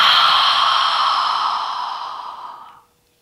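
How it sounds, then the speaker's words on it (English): A long, deep exhale as a person breathes out slowly during a relaxation exercise, a steady airy rush that gradually fades over about three seconds, close and alone with no speech. "Deep breath in. Big breath out."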